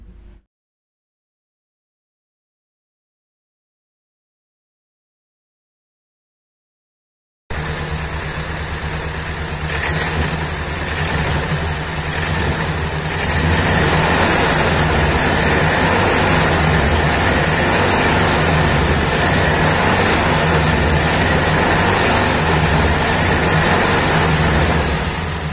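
A car engine fitted with a custom independent ignition, four CDI units and four coils, starts after several seconds of silence. It settles into a steady, fairly loud idle with a rhythmic mechanical chug that grows slightly stronger over time.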